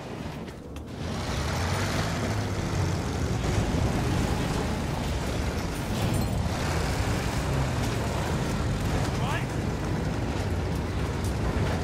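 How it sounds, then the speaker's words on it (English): An enemy bomber aircraft droning overhead on a Battlefield 1 World War I battlefield, a loud, rough, continuous engine roar filling the scene after a brief quieter start. "Enemy bomber, watch it!"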